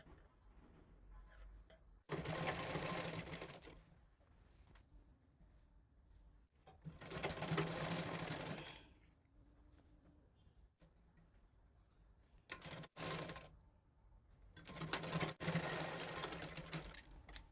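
A domestic sewing machine stitches a folded fabric strip for a plain blouse, running in four separate bursts of steady rapid whirring and clatter with quiet pauses between, close and fairly loud, no talking.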